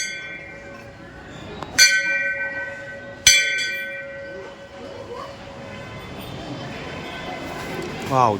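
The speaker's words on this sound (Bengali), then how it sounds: "ঘন্টাটা বাজে" A temple bell is struck twice, about a second and a half apart; each loud clang leaves a long, bright ringing decay over a low background murmur.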